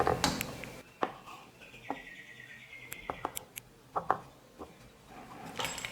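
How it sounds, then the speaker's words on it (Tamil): A kitchen knife cuts rolled homemade biscuit dough into small squares, giving a series of short, sharp taps and scrapes against the board, spaced irregularly and heard close up without talk. "இப்போ கத்தியை வச்சு நான் சின்ன சின்னதாக கட் பண்ணிக்கிறேன்."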